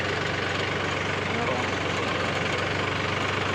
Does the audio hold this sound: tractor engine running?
yes